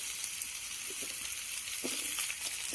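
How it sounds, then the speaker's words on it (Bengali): Potato and pumpkin pieces stir-fried in hot oil with tempering spices in a pan give a steady, soft sizzle throughout, with a few faint scraping stirs near the start and middle. "এখন আলু আর কুমড়োটাকে আমি নেড়ে চেড়ে ভেজে নেব"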